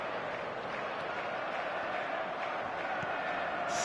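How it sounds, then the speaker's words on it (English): Stadium crowd noise from the eFootball soccer video game, a steady dense murmur and roar of a large crowd with no pauses, fairly loud and continuous throughout. "the crowd's impatience is an indicator that they haven't quite given up on a goal just yet"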